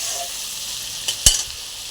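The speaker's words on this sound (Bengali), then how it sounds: "চিংড়ি মাছটা একটু ভাজাভুজি হচ্ছে।" Prawns frying in hot oil, steady soft sizzle throughout with a brief louder crackle and stir near the end, close by and without talk.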